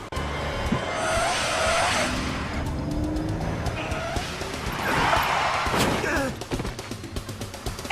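A car in the video game Lost Horizon races and brakes hard, with loud tire squeals and skidding over a roaring engine, plus a few sharp knocks, in a busy, close driving scene.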